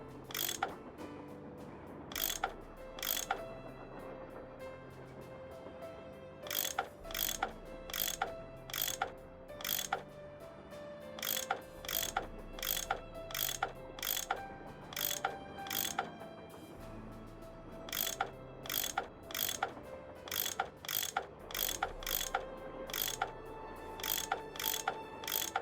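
Bolts are worked loose with a ratcheting tool in a Nancy Drew puzzle game, a quiet series of repeated clicking, ratchet-like mechanical bursts in steady rhythmic groups against a low hum.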